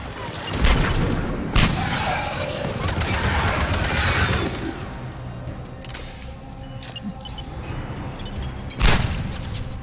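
Gunfire from the video game Mass Effect 3 comes as loud bursts of shots and heavy thuds, packed into the first half and returning as a sharp bang near the end, over a dense game soundtrack with voices throughout.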